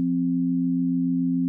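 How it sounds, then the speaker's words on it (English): A pure, steady sine tone from an oscillator holds one unwavering low pitch, loud and alone, for the whole stretch. "I've got this sine wave outputting to our output channel here."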